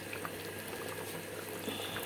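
Steady bubbling of yellow tomato sauce boiling in a pot, dense and continuous with small pops throughout, close by and moderately loud.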